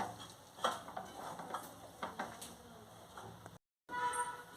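A thick date mixture for khajur pak is stirred and mixed in a pan, producing soft, irregular scraping and squelching sounds at a modest level, with a brief dropout near the end.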